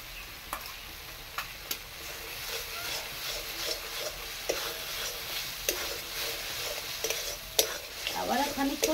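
Spice masala mixed with a spoonful of yogurt is stirred as it fries in a pan, giving a steady hissing sizzle broken by soft scraping clicks from the spoon.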